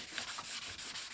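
Sandpaper is rubbed by hand along the grain over the wooden body of an 8-string guitar kit, giving soft, close, rhythmic back-and-forth strokes, about six in quick succession.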